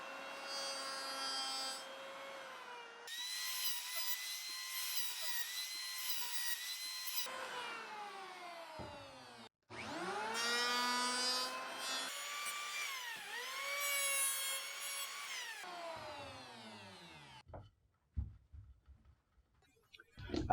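A router runs along the edge of a wooden board clamped to a workbench, beveling it in several long, loud whining passes with brief pauses between them, tapering off near the end.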